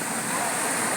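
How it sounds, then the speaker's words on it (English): Ocean surf rolls onto a beach in Puerto Galera, Philippines, a steady hissing wash of breaking waves that is even and continuous, moderately loud, with no clear voices. "YouTube recordings of beach and ocean sounds like the one you're hearing now on my actual beach here in Puerto Galera, Philippines"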